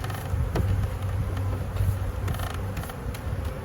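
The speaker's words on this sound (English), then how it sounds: "So I'm going to brush off these bees here back into the hive best we can." A massive swarm of bees buzzes as it is brushed into a new hive, a close, continuous droning hum with slight rises and falls and occasional soft brushing scrapes.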